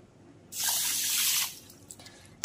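A quick gush of water pours into a pan with sugar for syrup, about a second, close and loud, then stops, leaving quiet with a couple of small knocks.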